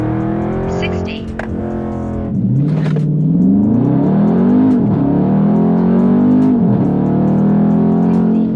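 Dodge Charger 392 Scat Pack in track mode accelerating hard, its loud engine note rising in pitch and dropping sharply at several gear shifts, heard from inside the car with talk over it.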